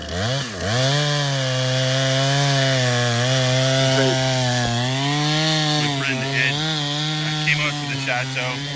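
A chainsaw cuts into wood, its engine holding a strong, steady buzzing whine that dips briefly at the start and wavers as it bites. Loud and close, running without a break.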